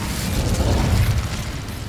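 An Incendio fire spell cast in Hogwarts Legacy erupts as a loud, dense roaring burst of flame with a rumbling low end, steady and sustained before easing slightly, with no talking.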